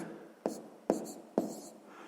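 A math solution being written down by hand: three short pen or chalk strokes spaced about half a second apart, soft and close, with quiet room noise between them.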